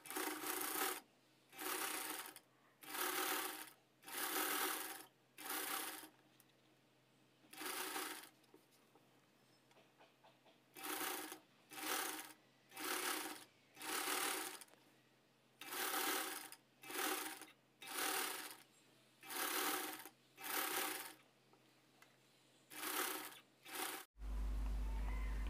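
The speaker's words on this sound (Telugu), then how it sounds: "ఇక్కడ నుంచి కరెక్ట్గా థ్రెడ్ పైపింగ్ పక్క నుంచి స్టిచ్చింగ్ అన్నది చేసుకోవాలి" Sewing machine stitching thread piping along the neckline of a size 36 boat neck lining blouse, in repeated short runs of steady whirring separated by brief pauses, close and clear.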